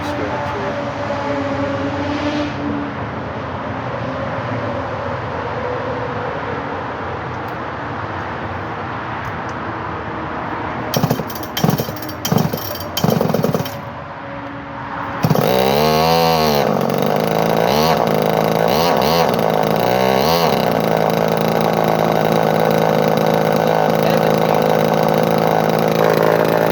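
A Poulan 245A chainsaw engine, a secondhand saw that may have a faulty clutch, idling roughly at first, then blipped a few times before revving up into a loud sustained high-pitched buzz close by, with no speech.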